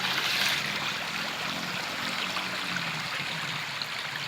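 River flowing fast along the edge of a lowland cocoa plantation during a flood, a steady broadband rush of water close by with no voices.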